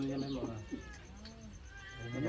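A hungry kitten meows several times, thin and high, while people talk nearby.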